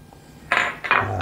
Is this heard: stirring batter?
yes